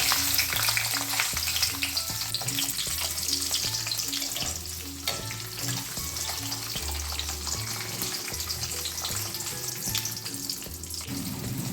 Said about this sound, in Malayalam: ഉള്ളി നമുക്ക് ചെറുതായിട്ടൊന്ന് വാട്ടിയെടുക്കേണ്ടതുണ്ട്